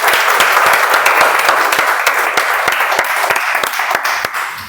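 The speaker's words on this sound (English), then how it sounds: "So, big round of applause for General Evaluator and his staff team." Loud, close applause fills the room at a Toastmasters club meeting. Many hands clap in a thick, continuous burst with sharp individual claps cutting through, gradually thinning and fading toward the close.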